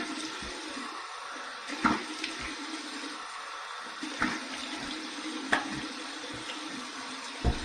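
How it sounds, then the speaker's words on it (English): Cold water running from a bathroom tap into a sink for a post-shave face rinse, a steady close trickle broken by several splashy bursts as hands scoop and splash, with no talking. "All right, here's my cold water rinse."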